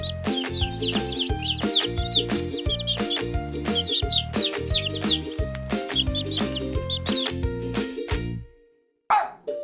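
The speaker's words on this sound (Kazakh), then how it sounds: "Балапан. Пи-пи-пи-пи-пи-пи-пи." Rapid high chick peeps repeat in quick bursts over a steady, bouncy musical beat, ending in a short pause.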